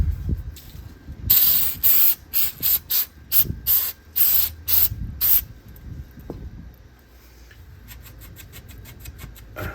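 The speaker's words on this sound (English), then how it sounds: "I'm using brake parts cleaner. We're just gonna spray the entire assembly here." An aerosol can of brake parts cleaner hisses in a rapid series of short, loud spray bursts over a Nissan GT-R brake assembly, followed by quieter softer sprays toward the end.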